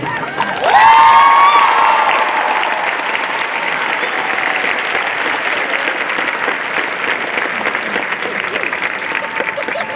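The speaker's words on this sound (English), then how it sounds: "Can we give another round of applause for Jerome?" Audience applause at a high school graduation ceremony, a burst of clapping with cheers and whoops rising sharply, then sustained steady clapping from a large crowd filling the hall.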